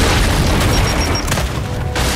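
A bomb explosion in the shooter Gears 5, a loud, sustained rumbling blast filling the whole clip with heavy low boom and dense noise, a brief faint tone near the middle.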